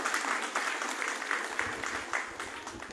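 A crowd claps at a community gathering in Mexico, steady applause of moderate loudness with faint low rumbling and some distance to it.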